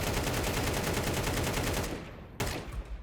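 Rapid gunfire in an online shooter game rattles continuously at close range, dense and steady, then cuts off abruptly, followed by a single sharp shot and fading echoes.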